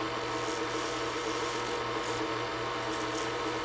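Lathe taking light finishing cuts on a resin and Fordite pen blank, a steady scraping, rasping hiss that runs continuously and evenly throughout with a low motor hum beneath.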